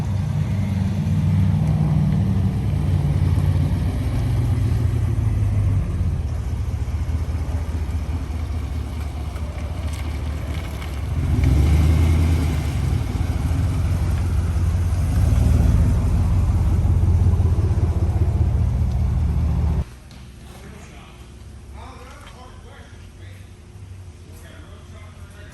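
A Polaris Trail Boss engine fitted with quad tip exhaust idles with a steady low rumble, swelling slightly mid-way, then dropping abruptly to a quieter hum near the end.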